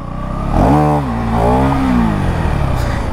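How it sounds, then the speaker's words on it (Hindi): A 2025 KTM Duke 390 motorcycle engine revs hard during a wheelie, rising in pitch twice in loud close surges, then settling into a steady high drone. "नई वाली ड्यूक 2025 से व्हीली मारी जाए लंबी? मार देते हैं।"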